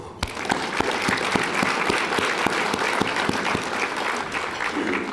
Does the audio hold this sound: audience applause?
yes